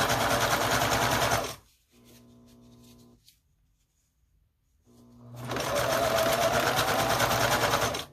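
Sewing machine stitching a straight line on a string quilt: a loud, fast motor-driven chatter of the needle, stopping for a few seconds of quieter hum and near silence before starting again at full speed.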